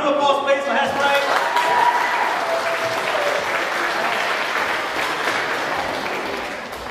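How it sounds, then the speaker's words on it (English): An audience at a college afternoon of musicals bursts into loud, sustained applause for a Hairspray act, dense clapping that opens over a fading musical chord and carries on with crowd noise. "Round of applause, please, for Hairspray."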